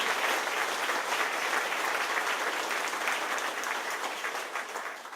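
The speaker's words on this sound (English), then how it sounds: "Let's give them a round of applause for the hospitality." An audience at a university event applauds steadily, a dense wash of many hands clapping at close range that holds strong and begins to fade toward the end.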